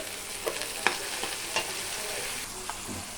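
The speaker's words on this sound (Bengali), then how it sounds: "আমি পেঁয়াজগুলিকে সুন্দর করে ভেজে নিব এখন আমি আদা পেস্ট রসুন পেস্ট দিয়ে দিব" Onions fry in a pan with ginger and garlic paste, giving a steady close sizzle broken by a few sharp stirring clinks, with no voices.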